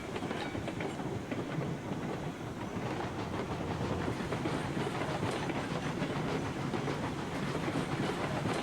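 A steam train rolls along the track in the game Railroads Online, with a dense, continuous rumble, hiss and clatter that stays loud and steady throughout, no voices.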